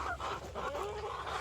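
Chickens in a farm coop give a few close, busy clucks and honk-like calls, steady over a brief stretch with no talking.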